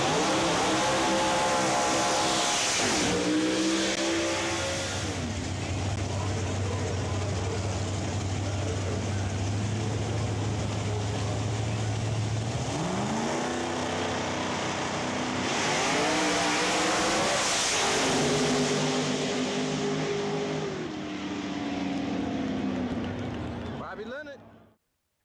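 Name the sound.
Pro Outlaw Door Slammer drag race cars racing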